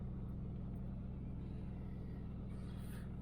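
A 1982 Chevrolet El Camino's engine holding a steady high idle, a constant low rumble heard close with no change in pitch or level and no talking.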